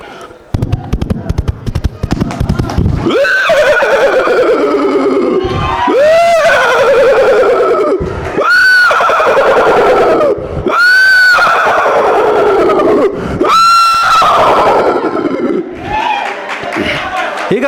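A mimicry artist at a competition stage uses his voice to imitate horse neighs and galloping, delivering loud, close whinnies that rise and fall in repeated bursts through a microphone, with rapid clattering hoofbeat sounds at the start.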